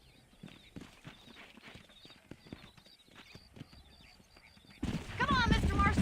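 Horse hooves clip-clop in the video game Red Dead Redemption 2, a quick rhythmic trot heard close for several seconds before louder voices and other sounds take over near the end.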